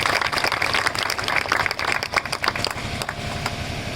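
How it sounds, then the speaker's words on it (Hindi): An audience at a library inauguration event in an Amroha village applauds to congratulate Wasim, brisk close handclaps that are busy at first and then thin to scattered claps. "आज हम सबको ताली बजाकर वसीम को बधाई देनी चाहिए जिसने इतना बड़ा काम किया"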